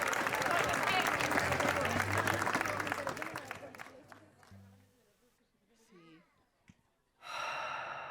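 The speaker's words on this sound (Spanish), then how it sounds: "forte aplauso para ela, para darlle folgos." Audience at a singing contest applauds for a singer, a loud sustained wash of clapping with cheers that fades out over several seconds, then quiet with faint sounds before another burst of clapping rises at the end.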